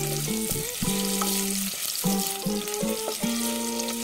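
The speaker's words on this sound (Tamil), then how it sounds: "இப்ப எல்லாம் சேர்த்ததுக்கு அப்புறமா நல்லா வதக்கி விட்டுடலாம்." Ginger garlic paste sautéing in a hot pan during tomato recipe cooking, a steady soft sizzle running throughout, with no talking.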